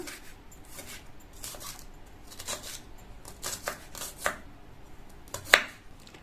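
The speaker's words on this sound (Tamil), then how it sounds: "அடுத்து இந்த ஆனியனையும் கட் பண்ணிக்கலாம்." Knife chopping spring onion on a cutting board, a series of soft irregular taps with one sharper louder chop near the end, close and fairly quiet.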